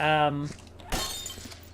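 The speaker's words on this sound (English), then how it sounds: "I hear you breaking glass." A glass acid vial shatters once in the video game Viscera Cleanup Detail, a sharp crash right after a brief voice.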